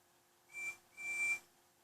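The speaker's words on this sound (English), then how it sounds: "Then Fabian heard a whistle." Two short, steady whistle tones, the second longer than the first, sounding fairly faint against a quiet background.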